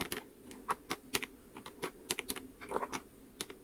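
Buttons pressed on a calculator, a quick irregular series of soft plastic clicks and taps, close and fairly faint, with a few slightly louder presses.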